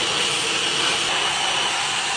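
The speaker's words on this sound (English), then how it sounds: "I like to take my round brush and a blow dryer and just smooth everything out in the front" A blow dryer used with a round brush to smooth the front of the hair, giving a constant close, loud whooshing hiss with a faint high whine that runs steadily throughout, with no talking.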